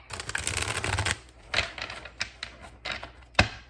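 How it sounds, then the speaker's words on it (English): A deck of cards riffled in one long crisp burst, then a few short separate card slaps and flutters, close by, with no voices. "One more shuffle, they said. One more shuffle."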